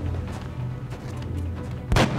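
A single sharp gunshot rings out from a soldier in XCOM: Long War, a loud close burst near the end of the clip over a low, steady game background hum.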